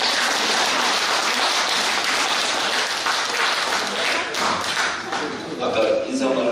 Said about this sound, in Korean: 박수로 맞주시기 바랍니다.